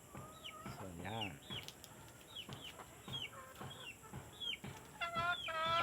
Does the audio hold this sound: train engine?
no